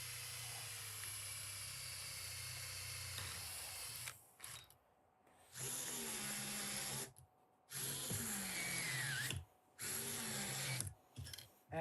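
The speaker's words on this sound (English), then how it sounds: "I'm going to drill some holes for screws." A power drill bores screw holes into a hand-made Proton Pack prop part in several bursts of whining, each a couple of seconds long, with short quiet gaps between them. The drilling is close and fairly faint, and nobody talks.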